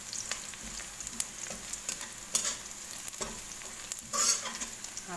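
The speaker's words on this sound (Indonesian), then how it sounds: "Ini ditumis sampai kuning atau sampai matang ya teman-teman." Clams stir-fry with spices and shallots in a pan over medium heat, a constant crackling sizzle broken by scraping stirs and a louder hiss burst near the end.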